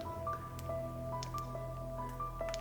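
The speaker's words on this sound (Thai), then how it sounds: "ได้ยินเสียงน้ำไหม น้ำหยดอ่ะ" Water drips inside a Thai cave, a series of clear, ringing plinks at irregular intervals, several per second, echoing over a low steady rumble with no talking.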